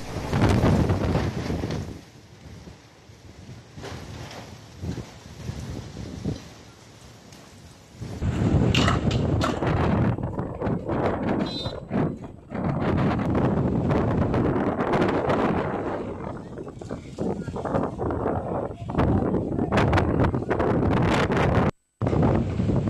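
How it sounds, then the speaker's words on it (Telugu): Strong whirlwind and storm winds lash Himmatnagar, Gujarat, a loud continuous roar buffeting the microphone, surging and easing in gusts with heavy rumbling low noise, briefly cutting out near the end. "గుజరాత్లోని హిమ్మత్ నగర్ను ఒక్కసారిగా సుడిగాలి చుట్టేసింది."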